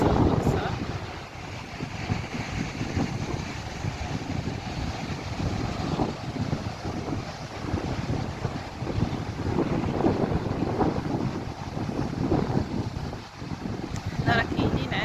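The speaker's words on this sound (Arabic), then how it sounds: "نخليكم دابا مع المواج ديال البحر" Sea waves at Lalla Fatna beach in Morocco, a continuous washing roar of surf with gusty wind buffeting the microphone, swelling and easing steadily over a long stretch.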